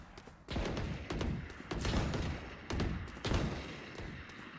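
Gunfire in a video game: about five sharp shots and thuds come at irregular intervals, each leaving a short echoing tail, fairly quiet overall and with no talking over them.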